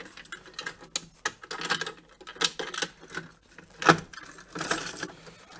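Metal keys jangle and clink at a fire alarm panel key switch, a series of close, irregular bright rattles and ticks with brief pauses, fairly quiet and with no voices.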